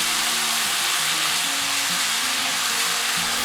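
Beef and bean sprouts sizzle loudly in a hot wok, a dense, continuous frying hiss with the scrape and toss of stirring heard throughout, close and steady with no talking.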